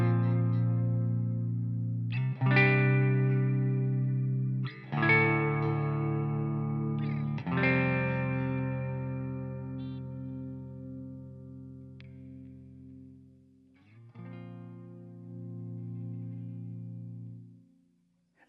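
A Gibson Custom Shop RD electric guitar rings out chords with delay and reverb, each strum trailing into a lush, echoing wash; a few strikes then long sustained tails, fairly loud.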